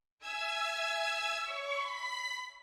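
Lush Violins 2 string sample played in Kontakt with no effects holds one sustained bowed violin chord, bright and steady for over two seconds, then thins and starts to fade at the end; no voices.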